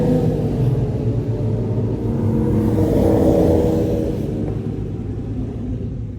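Cars rev their engines inside a tunnel on the way to a night car meet, a dense reverberant roar that swells to a peak midway and then fades, loud and without speech.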